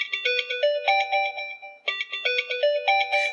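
Melodic ringtone from a Binatone Brick mobile phone styled after a 1980s brick phone, a bright electronic chime tune played twice in a row, clear and close with no talk over it.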